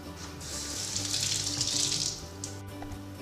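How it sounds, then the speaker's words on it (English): Tap water runs steadily into a sink while a bowl is washed underneath, a close, bright rushing splash lasting a few seconds and heard alone without speech. "Step 1, get a bowl. We're going to use this one, I'm going to wash it."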